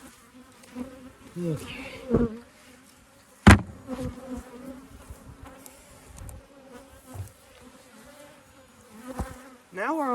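Honeybees hum steadily at an open, strong and healthy beehive during an inspection, a close continuous buzz with sharp knocks and clatter from handling the hive, and a voice speaks briefly.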